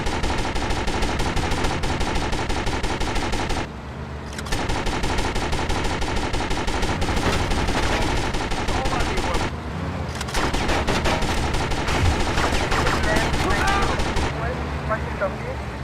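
Rapid gunfire crackles continuously through a GTA Vice City shootout, dense bursts layered under game music and character voices, with two brief lulls.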